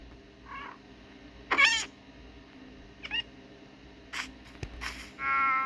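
A cat meows several times in short, separate calls over a quiet background; one call near the start is loud, and a longer, tonal call comes at the end.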